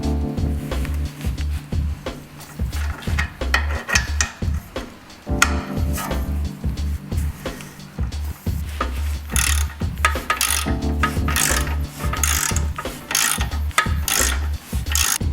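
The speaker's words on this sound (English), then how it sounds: "So now onto the rear, loosen the outer toe arm bolt." A ratchet works on the outer toe arm bolt at the rear of a Nissan 350z Z33 during a coilover fit, with repeated close clicking strokes and metallic scraping in bursts across the clip.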